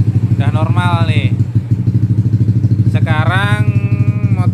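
A warmed-up Yamaha All New Nmax 2020 scooter engine idles in a general repair workshop, a steady low rhythmic putter under a man's speech.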